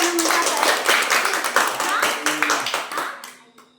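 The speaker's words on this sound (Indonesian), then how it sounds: "Wih, kita tepuk tangan dulu." Hand clapping from a church congregation at an evangelism service, a dense burst of many claps with lively talk over it, fading out toward the end.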